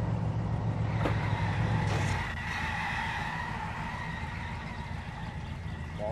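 A car in the driving game My Summer Car rumbles with a steady low engine drone while its tyres slip, with a brief higher squeal partway through, fairly close and continuous.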